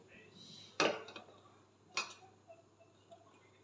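Two sharp metallic clanks of a heavy steel pot being set and handled on a stove, about a second apart, followed by faint softer knocks in a quiet kitchen.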